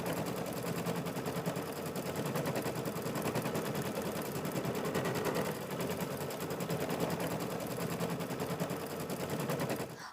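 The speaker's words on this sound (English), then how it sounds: "now we'll go ahead and stitch out the remaining part of the stars." An embroidery machine stitching stars onto a quilt block, a fast steady rapid-fire needle clatter running continuously and close for ten seconds, no speech.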